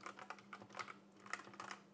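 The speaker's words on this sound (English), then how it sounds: "I don't know if it's the switches or the body that's making it make that ringing sound." Rapid typing on a cheap mechanical keyboard with springy, stiff switches, sounding as a steady run of clicky, slightly ringing keystrokes up close with no voices.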